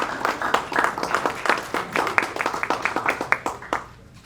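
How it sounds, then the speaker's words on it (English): A live audience at a business summit gives a panel a round of applause, dense overlapping hand claps that swell and carry on for several seconds before thinning out, with a faint voice underneath. "Give them a round of applause."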